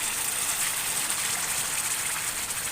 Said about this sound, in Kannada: ಅದಕ್ಕೆ ನಾನು ನೀರು ಹಾಕ್ತಾ ಇದ್ದೀನಿ